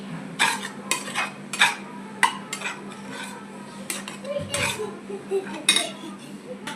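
A coconut, jaggery and ghee laddu mixture stirred in a metal pan, repeated clinks and scrapes of a spoon against the pan in an uneven rhythm, close and fairly quiet, with a low hum beneath.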